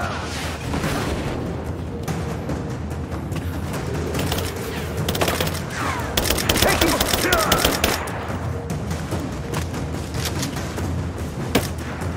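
Gunfire crackles through a Rise of the Tomb Raider helicopter escape, with dense rapid shots and bursts over a constant rumbling backdrop, growing heavier midway and then easing.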